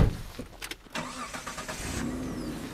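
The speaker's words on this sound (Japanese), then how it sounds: "エンジンはね普通にかかりますよ。" Mitsubishi Delica Space Gear (PD6W) minivan engine cranks briefly and catches, then settles into a steady, close idle with no talk.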